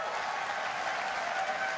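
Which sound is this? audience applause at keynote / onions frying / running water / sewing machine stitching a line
audience applause at keynote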